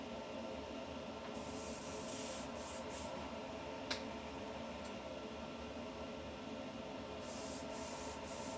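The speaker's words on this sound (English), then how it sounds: "Clear my airbrush out really quick." An airbrush used for painting fishing lures is blown clear in a few short bursts of airy hiss over a low steady background hum.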